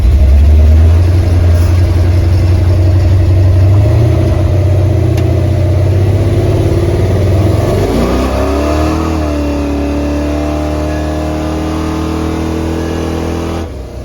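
A small block Chevy V8 engine revving hard at wide open throttle, loud and close, climbing then dropping back with a deep roar, alone without talk.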